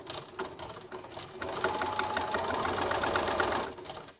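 Domestic sewing machine running a long basting stitch at about a quarter inch on a concealed carry belly band: a few brief starts, then a close, steady burst of rapid needle strokes that stops abruptly.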